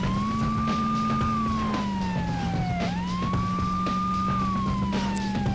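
A police siren in the N64 racing game Beetle Adventure Racing wails steadily, its pitch sliding slowly up and down over a loud, continuous engine drone with no talking.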